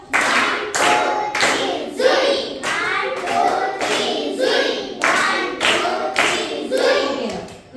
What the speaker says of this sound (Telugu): ఇప్పుడు నేను మీకు రాకెట్ క్లాప్స్ నేర్పిస్తాను.